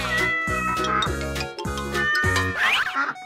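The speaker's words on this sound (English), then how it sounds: "Cat." A cat meows repeatedly in an animal guessing game, each call a clear tonal mew over a bouncy musical backing, ending with a rising, wavering cry.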